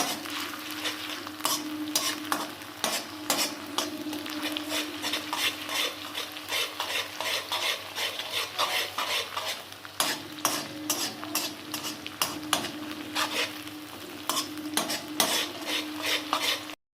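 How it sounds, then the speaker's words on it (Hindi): Ginger garlic paste fries in a pan for chicken karahi keema, a steady sizzle beneath repeated scraping stirs and metal utensil clinks, close and continuous with no talking. "अब इस मौके पे आके हम लहसुन अदरक का 1 टीस्पून पेस्ट डालेंगे इसके अंदर। इसे अब फ्राई करेंगे इसके साथ।"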